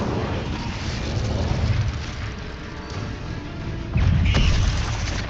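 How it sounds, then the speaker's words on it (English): Incendio fire spell cast in the video game Hogwarts Legacy: a steady, loud roaring blast with a dense rumbling body that swells into a heavier burst near the end. "Incendio!"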